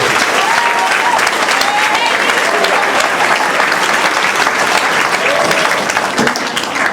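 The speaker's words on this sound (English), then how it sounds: "Can you give a round of applause to music?" A school event audience gives sustained, even applause for the music department, with dense clapping from a large crowd filling the room at a steady level throughout.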